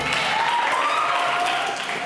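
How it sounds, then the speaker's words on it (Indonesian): Students at an anti-corruption education session clap together, a short burst of steady group applause over faint background voices. "Kasih tepuk tangan lagi dong."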